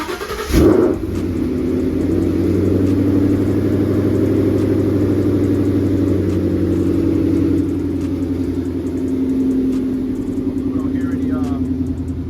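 A 2014 Ford Mustang GT V8 engine cranks and catches with a brief loud burst, then settles into a steady, deep rumbling idle that continues throughout.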